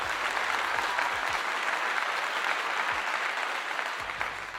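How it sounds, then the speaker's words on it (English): Sustained crowd applause, a dense and even roar of many hands clapping at moderate loudness with no voices, tapering slightly at the end. "I gotta give that another clap again."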